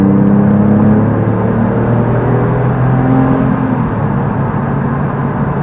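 Engine of the cheapest Porsche 911 in the UK droning loudly from inside the car while driving, a steady low hum with slowly shifting pitch and no talk.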